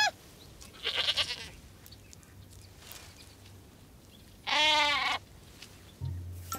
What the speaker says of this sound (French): Un arbre plein de chèvres.